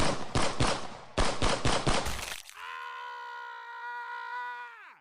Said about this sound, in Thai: ได้มีเสียงปืนดังระงม เสียงกรีดร้องดังโหยหวนต่อเนื่อง